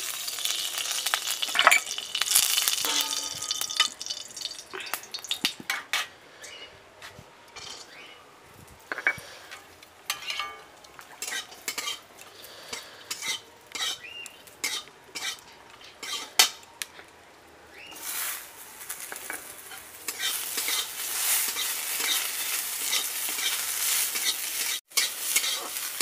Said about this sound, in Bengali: আমি কাজু কিশমিশ ভেজে নেব, তার জন্য কড়াতে তেল ঘি দিয়ে দিচ্ছি